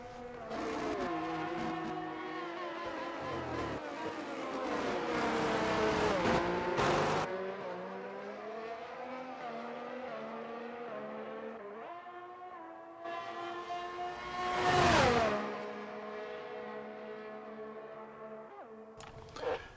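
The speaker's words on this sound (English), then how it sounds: "And on lap 7, Chris Padajak finally catches up to the McLaren of Blake Williamson and tries to pass him for fourth." Formula 1 cars race through a United States Grand Prix in a video game, with whining engines rising and falling through gear changes as cars close in and pass each other on the straight.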